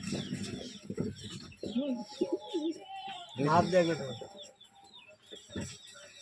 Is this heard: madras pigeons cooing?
yes